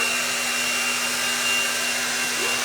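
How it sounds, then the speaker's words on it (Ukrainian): A 5-in-1 hot air brush hair dryer runs with a rotating attachment, giving a steady, loud whir with a constant motor tone and airy hiss that continues unbroken throughout. "зараз я цю насадку ще навіть не пробувала, а вона теж крутиться"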